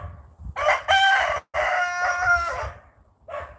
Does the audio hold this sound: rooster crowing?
yes